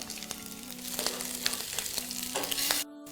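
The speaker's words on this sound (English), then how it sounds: "I just love the sound of a sizzling meal." Meatballs for macaroni in meatball sauce fry in a pan, a close, continuous sizzle with crackles and pops, stirred now and then, cutting off abruptly just before the end.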